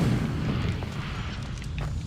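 Incendio fire spell cast in the Hogwarts Legacy video game, giving a sustained low, booming roar of flame that holds steady at a fairly loud level for about two seconds, with no talking.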